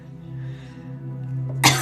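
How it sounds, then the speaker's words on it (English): A single sharp cough bursts out near the end, following a steady low humming tone. No other voices are heard. "Or else I start coughing."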